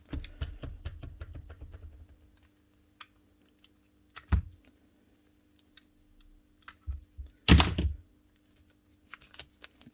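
An old blue Ryobi power tool with something loose inside gives sparse irregular clicks and rattles, a few louder clacks standing out from otherwise quiet stretches.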